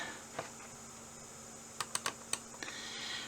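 Sparse, close keystrokes on a computer keyboard as a formula is entered: one soft tap, then a run of four or five sharp clicks with gaps between them. A few lighter taps follow, all over a low constant hum.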